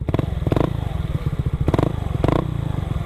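A 2019 Yamaha Mio Soulty scooter running on a new genuine V-belt, its engine idling close up with a steady putter and repeated clattering bursts of revving.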